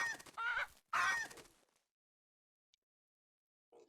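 Two harsh, harmonic bursts of chickens squawking and fighting on a ranch in a farming video game, loud and close, followed by near silence with a faint tick and a short low call at the end.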